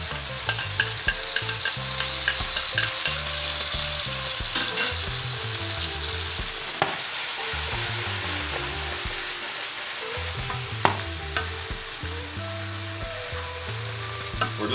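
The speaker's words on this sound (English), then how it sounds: "We're just gonna cook this up a little bit just to bring out some of that flavor" Garlic, ginger, green onion, scotch bonnet pepper, onion and thyme fry with pork chops in hot oil, a loud continuous sizzle with crackling pops and occasional stirring, close up, no speech.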